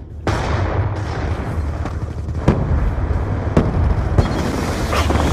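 Concussion grenade blasts and gunfire in Black Ops 2 multiplayer: a series of sharp, loud bangs cracking out every second or so over a dense, continuous roar of battle noise.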